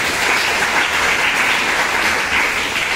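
Dense, loud applause from an audience at a motivational talk for students fills the moment continuously, a steady wash of many hands with no voices over it.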